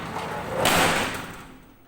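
A room door in a debt collection meeting room swings shut with a single soft thud and short swishing decay, alone and fairly close.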